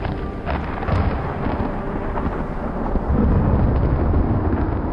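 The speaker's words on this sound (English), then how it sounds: "Another roll of thunder, this time closer, ripped his attention away from the clouds" Thunder rolls as a long, continuous low rumble that swells slightly toward the end, dense and unbroken with no voices.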